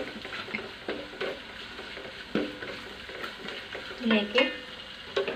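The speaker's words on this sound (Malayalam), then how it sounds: "ഇതെല്ലാം കൂടെ ഒന്നും കൂടെ വഴറ്റാം" Crushed chilli powder mixture for tender jackfruit thoran is sautéed in a pan. Soft sizzling runs under irregular spatula scrapes and knocks, and a voice speaks briefly over the stirring.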